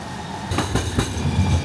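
A metro train rolls past in the middle of Houston, its rumble swelling suddenly after a quiet start and holding steady with rhythmic clatter from the wheels, fairly close and loud.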